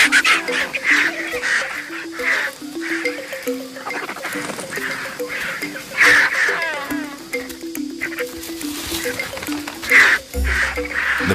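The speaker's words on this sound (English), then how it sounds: "The birds mob the carcass" Vultures squabble over a carcass on the African plains, a dense, restless mix of harsh, repeated squawks and calls from a crowded flock, fairly close and continuous.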